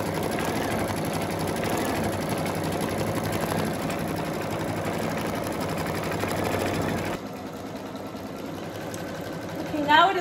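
A Brother Essence VM5200 sewing machine stitches a built-in pattern with a steady, quiet, even whir that runs continuously, then eases to a softer hum near the end, with a short brief rise at the finish.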